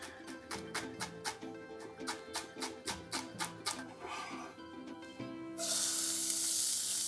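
Minced shallots dropped into hot oil burst into a loud, steady sizzle after a run of rhythmic ticking clicks, the frying hiss holding strong to the end with no talking.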